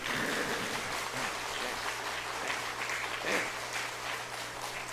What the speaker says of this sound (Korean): 다 같이 박수 한번 쳐요.